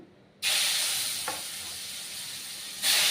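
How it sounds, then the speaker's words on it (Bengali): Pieces of pointed gourd (potol) drop into hot oil, setting off a sudden, loud, steady sizzle close by that swells again near the end. "তেলটা গরম হয়ে গেছে, পটলগুলো ছেড়ে দিলাম।"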